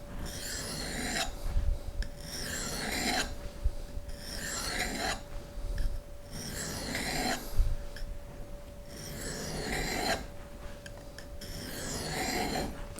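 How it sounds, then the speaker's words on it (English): A knife edge is stropped along a ceramic rod in repeated rasping strokes, each side in turn, about six evenly spaced swipes with short pauses between, close and clear. "use the ceramic rod to strop each side"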